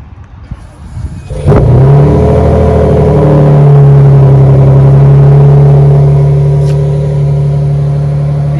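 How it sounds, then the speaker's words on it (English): Exhaust of a 2022 Toyota Tundra TRD Pro bursts to life after a brief click, then holds a loud, steady droning rev up close for several seconds before easing slightly. "The TRD Pro exhaust."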